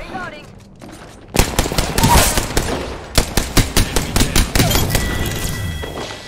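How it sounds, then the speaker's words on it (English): Gunfire in the video game Apex Legends: loud rapid bursts of shots and sharp repeated cracks with thumping impacts, continuous over several seconds, with faint voices in the background. "They're shooting from above."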